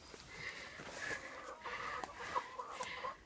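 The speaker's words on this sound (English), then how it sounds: "Back side of the chicken coop, shade cloth to keep them a little cooler." Chickens in a backyard coop with shade cloth cluck in a steady, scattered run of calls, fairly quiet and close by, with no talk over them.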